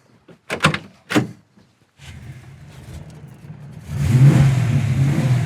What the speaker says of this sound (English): Power windows work really fast too.